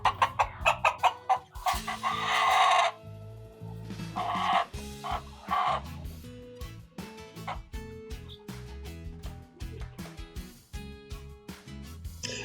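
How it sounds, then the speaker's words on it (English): Silkie chickens in a small ornamental poultry coop cluck in repeated short rhythmic bursts, with a few louder squawking calls early on, moderately close and without talk. "A silky chicken is the ultimate in kids' chickens."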